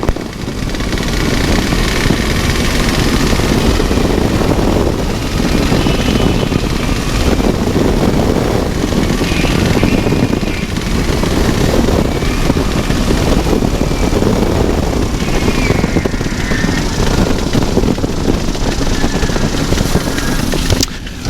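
Light aircraft landing on runway 26 at Shobdon airfield, its propeller engine droning loudly and steadily throughout at close range, with a broadband rumble of wind and airframe noise and no clear change in pitch.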